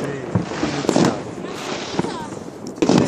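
Fireworks burst in a display, with repeated booming and crackling pops over a continuous rumble while people talk nearby.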